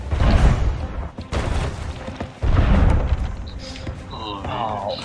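Cannon fire in a video game: heavy booms and thuds at irregular intervals, with players talking throughout and some tonal musical notes near the end.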